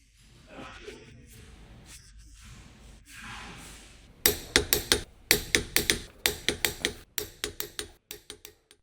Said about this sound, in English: Using a large 19mm deep socket with a large torque wrench, tighten the lug nuts.